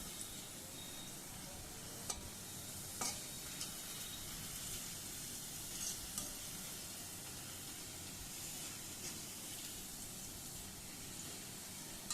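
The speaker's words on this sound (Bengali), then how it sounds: "আমি কড়াইতে ঘিটা খুব ভালো করে জাল করে নিচ্ছি" Steady sizzling hiss of ghee heating in a wok, continuous and close, with a few faint clicks scattered through.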